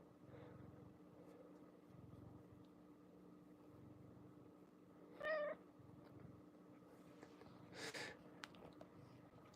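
A cat purrs softly nearby in a quiet room, with a brief meow midway and a short breathy sound near the end, faint and close with no talking.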